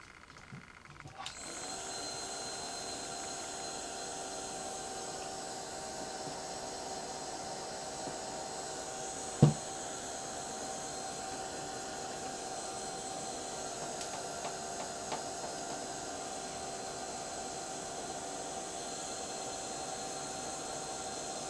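A heat tool blows a steady, even whoosh across loose glitter, melting it into place, after a short quiet start and a single soft tap partway through.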